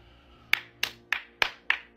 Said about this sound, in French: Applaudissements dans les bureaux.